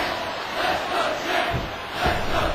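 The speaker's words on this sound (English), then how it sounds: "the fans are cheering for Scarlett Velvet Ember" Wrestling fans at an independent show cheer and shout in a steady, loud crowd roar with a few sharper swells, no single voice standing out.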